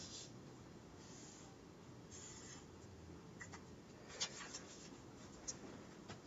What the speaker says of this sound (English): let me draw a graph